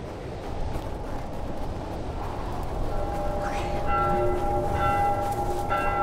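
Church bells in the video game The Last of Us Remastered begin ringing partway through, their clear tones sounding over a constant low rumbling background.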